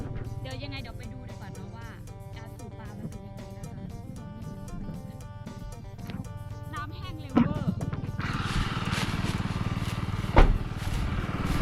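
An engine-driven water pump runs with a steady low mechanical drone while draining a pond in a rice field to catch fish, with a louder splashing rush of water joining later and people talking nearby.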